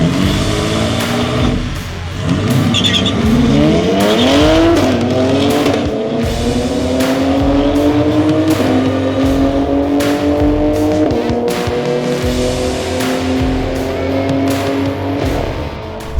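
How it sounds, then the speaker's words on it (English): An SUV launches hard off the drag strip start line at Santa Pod, its engine revving loudly with rising, shifting pitch sweeps and tyre noise, sustained and close for the full run. "There's an SUV on the start line."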